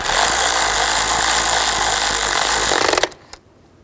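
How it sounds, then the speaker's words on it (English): A power tool drives down the bolt on an ignition coil of a 2010-16 Buick Lacrosse, a loud continuous whirring buzz for about three seconds that cuts off sharply. "Tighten down the bolt."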